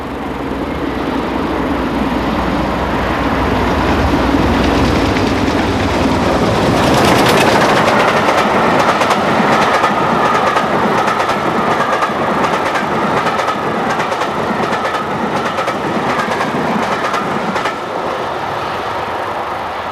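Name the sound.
steam locomotive hauling train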